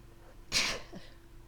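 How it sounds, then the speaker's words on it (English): A single sharp human sneeze bursts out loud and close, lasting about a quarter second with a faint breathy tail, against a quiet indoor background. "My yawning and sneezing at the same time."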